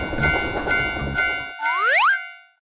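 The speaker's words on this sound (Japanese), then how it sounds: "電車が来るよ。" Cartoon train approaching a railroad crossing, with rhythmic clattering and crossing-bell dings, then a rising whistle-like swoop as it passes, loud and then cutting off into silence.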